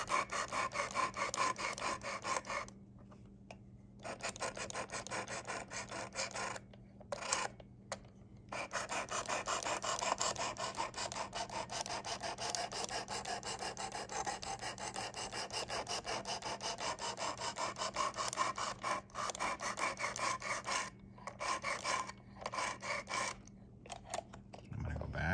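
A Damascus steel Civivi knife being sharpened on a Worksharp Precision Adjust sharpener, with long continuous rasping strokes of the stone on the blade, broken by a few brief pauses, close and clear.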